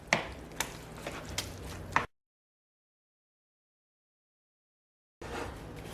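A spoon stirs brown rice with salsa and ground cumin in a bowl, making close, quick scraping taps for about two seconds. Then it goes silent before the stirring picks up again.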